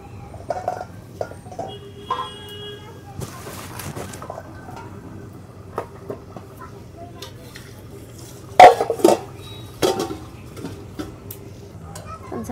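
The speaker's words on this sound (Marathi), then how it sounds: "थोडा झाकण ठेवतो याच्यावर." A lid set down on a cooking pot of simmering egg curry, one sharp clatter standing out from the quiet kitchen background, followed by a few softer knocks.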